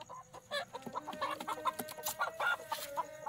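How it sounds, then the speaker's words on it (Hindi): An Aseel hen in a backyard bird setup clucks in quick, uneven bursts close by, with soft chatter of other fowl in a quiet yard. "ये मेरे पास ये सील मुर्गी है।"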